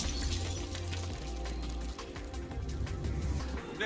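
Glass-like object shattering in The Witcher video game, a loud crashing burst with bright crackling fragments scattering over a steady low rumble of game ambience for several seconds.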